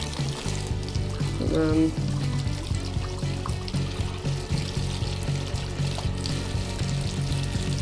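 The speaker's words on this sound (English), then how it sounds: "after just rinsing the tires off, how dirty the bathtub got" Water pours and splashes steadily in a bathtub as dirty RC car tires are rinsed, the running stream continuous and close while a person talks over it.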